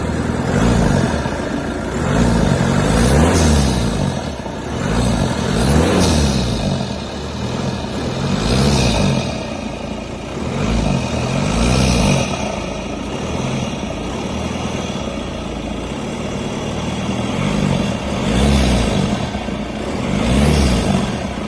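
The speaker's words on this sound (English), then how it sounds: "I'll give a few revs just so you know what the" Intake roar from a VW Passat B5 1.9 TDI Sport diesel, revved a few times while reversing into a garage, with repeated rises and falls in engine noise over a steady idle.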